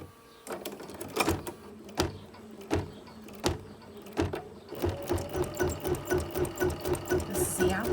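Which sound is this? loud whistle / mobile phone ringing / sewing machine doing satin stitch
sewing machine doing satin stitch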